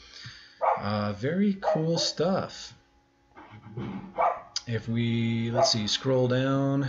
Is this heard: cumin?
no